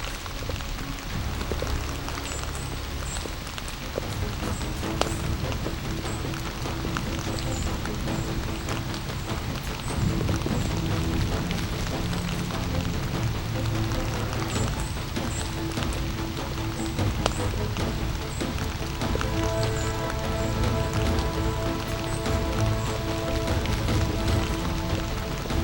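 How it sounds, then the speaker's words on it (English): Heavy, soaking rain pours down steadily across open tundra during a caribou hunt in Quebec, a dense, continuous wash of rainfall that stays loud and close throughout, with some faint talk. "And it's just pouring down rain, just soaking rain."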